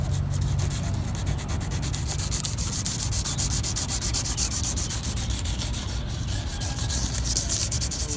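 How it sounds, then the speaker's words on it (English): Steady, rhythmic rubbing and scraping of F-250 side mirrors being scuffed by hand with an abrasive pad, heard up close and continuous without talk. "we're pretty much done scuffing both mirrors"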